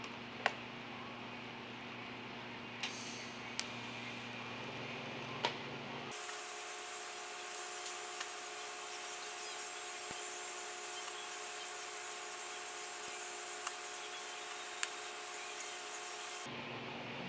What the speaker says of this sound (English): I'll be at 120 amps for these tack welds.